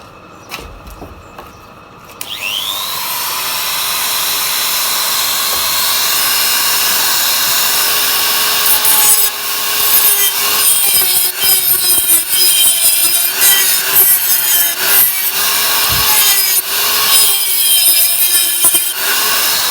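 An angle grinder works down a weld on the swingarm of a Jawa 350 motorcycle. The motor whines up, then holds a loud, continuous harsh grinding with wavering pitch and scraping bursts as the disc bites the metal.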